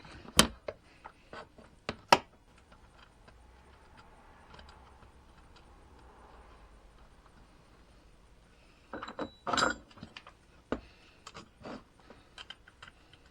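Nuts being tightened on a Puch SR seat with hand tools, sharp metallic clicks and ticks scattered through the stretch, with a denser cluster of ratcheting taps toward the end, close and fairly quiet.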